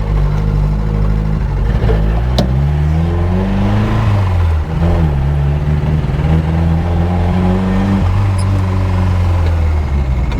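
A Chevy Luv pickup truck drives down the road, its mid-pitched engine droning steadily and climbing through gears with audible shifts, loud and close throughout with no talking.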